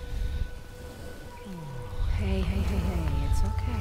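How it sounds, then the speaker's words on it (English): An elephant in the video game Uncharted: The Lost Legacy gives low, wavering rumbling calls that rise and fall, emerging midway over a continuous ambient background, fairly close. "Oh, it's an elephant."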